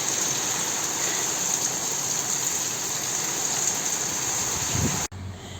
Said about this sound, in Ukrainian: У нас дощі, дощі, дощі, злива.